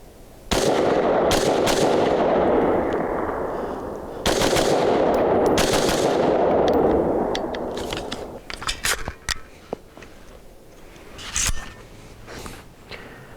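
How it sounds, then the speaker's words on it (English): An AR rifle fires 55 grain ball ammunition outdoors: two loud, sustained bursts of sharp reports, then scattered single cracks and clicks that fade toward the end. "we'll take a few shots here with the AR, just 55 grain ball"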